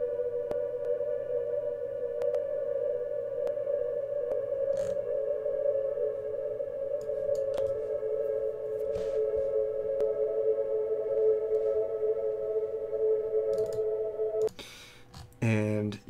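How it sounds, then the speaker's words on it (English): A time-stretched sliced sample in FL Studio gives off faint, regular clicks at each slice point over a sustained droning tone, then a brief burst of busier sound near the end. "When it hits each new slice, you get this kind of nasty clicking noise."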